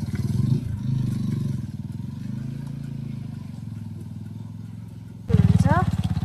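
A motorcycle engine drones steadily on a muddy, slippery rain-soaked mountain road near Chaukidada, Chitwan, the rider's voice talking over it, then the engine note rises and wavers near the end.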